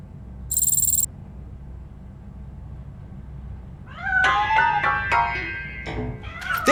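A cat meows repeatedly inside a piano in the video game Robocop: Rogue City, several clear, close cries in quick succession after a brief electronic tone and quiet room hum.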